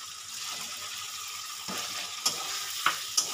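Pre-fried raw mango and potato go into a sizzling spice paste for a Bengali shol fish curry, a steady close frying hiss with a few sharp clinks and scrapes near the end, no voices.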